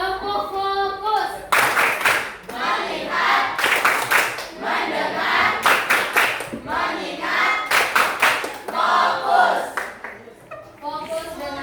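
Schoolchildren in a classroom clap out the 'tepuk fokus' chant in crisp, patterned volleys between spirited group chanting, loud and near, the claps tightening into quick clusters.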